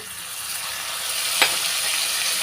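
Masala mixed with thick curd fries in a pan with a steady, close sizzle and crackle, with one brief scrape as it is stirred.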